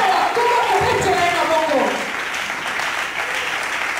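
A church congregation applauds and cheers loudly in praise during a charismatic service, steady dense clapping with voices mixed in, easing slightly after a couple of seconds.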